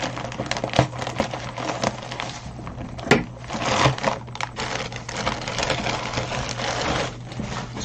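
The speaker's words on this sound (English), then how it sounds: "Let's get the old scissors out." Scissors snip and tear through a parcel's packaging, a run of sharp crunching cuts and rustles close by, with no talking.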